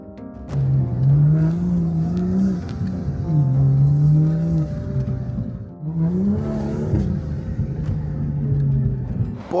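A BMW M235i track car engine revs hard in repeated surges on a test drive, pitch climbing through gears, then dipping and rising again; loud, close, continuous rumble.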